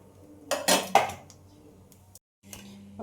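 Leftover-roti pizza being lifted off a gas stove and set onto a plate, with a few close, sharp dish and utensil clinks early on, then quiet clatter and a short pause.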